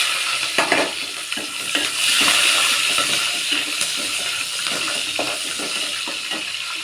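Curry leaves, cumin seeds, ginger and green chili fry in hot oil, giving a steady bright crackling sizzle with scattered pops and occasional stirring clinks, close and continuous.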